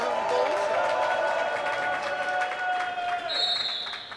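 Roller derby crowd at a Dom City Dolls bout cheering and shouting in a large echoing hall, a sustained loud roar with a whistle piercing through near the end.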